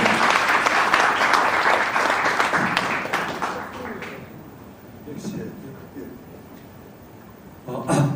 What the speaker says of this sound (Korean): 박찬용 사임고문님을 박수로 맞으시죠.